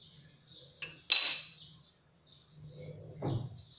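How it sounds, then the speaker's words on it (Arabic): A spoon stirring sugar into focaccia dough mixture in a bowl gives a few sparse clinks and scrapes: one sharp knock, then softer dragging, quiet and close, with no voice. "غادي نحركوهم واحد شويه حتى ينسجموا مع بعضياتهم"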